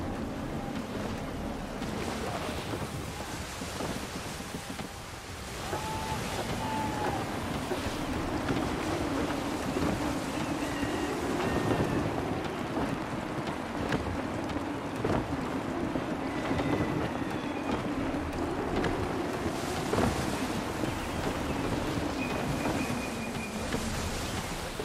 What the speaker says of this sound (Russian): Кажется, ветер меняется.